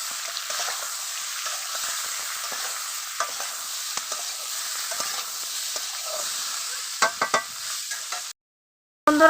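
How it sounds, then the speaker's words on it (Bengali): Cauliflower frying in hot oil in a home kitchen, a steady close sizzle with stirring scrapes and clinks throughout, briefly cutting out near the end before resuming. "বন্ধুরা দেখো কপিটি ভাজা হয়েছে না"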